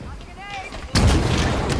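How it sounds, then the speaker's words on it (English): A rocket launcher fired in Halo Infinite, a single loud, close blast that erupts suddenly after a quieter stretch of game sounds with tonal whistling, then rumbles on as a sustained explosion. "The rocket launcher is so easy to use."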